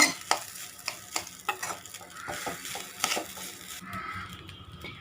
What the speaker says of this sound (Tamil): இப்போ இதை வந்துட்டு நல்லா மிக்ஸ் பண்ணிக்கோங்க.